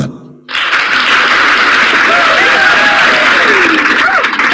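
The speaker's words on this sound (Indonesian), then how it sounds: "Tepuk tangan untuk Tuhan." A crowd at a debate breaks into sustained applause that starts abruptly and holds steady, with voices speaking over the clapping.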